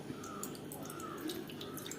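Water trickles and drips faintly into a bowl for mixing maida flour batter for small banana fritters, a soft, continuous pour heard up close with no talk.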